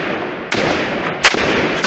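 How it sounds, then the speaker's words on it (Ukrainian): Automatic weapon fire crackles in dense continuous bursts, loud and close, during the shooting on the Maidan in Kyiv. "Людина веде вогонь з автоматичної зброї."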